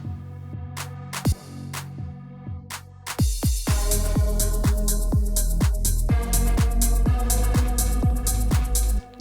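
Synth bass part from a remake of a dance track, with low and high cut filtering and kick sidechain, a steady pumping electronic groove with punchy repeated kicks that grows fuller partway through, loud and up front.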